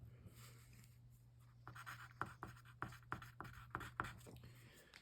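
Pen scratching a name by hand on paper during a tabletop rugby dice game, a run of short rhythmic strokes over a steady low hum, close and quiet.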